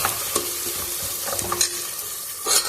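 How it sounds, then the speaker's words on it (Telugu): Chili powder and coriander powder are stirred into frying oil in a pot while cooking chicken biryani in a pressure cooker. A close, steady sizzle comes with a few soft scraping stir strokes and spoon taps, and there is no speech. "ఇవి వేసేసి బాగా ఇలా ఒక్కసారి కలిపేసి"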